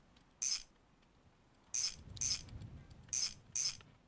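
A ratchet bolting down an axle during a garage restoration clicks in five short, crisp bursts, one alone and then two pairs, with quiet pauses between them.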